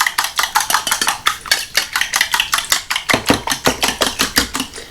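Almond milk batter whisked in a bowl for an air-fryer blooming onion, a steady run of quick, close utensil strokes clicking and scraping against the bowl with no talk.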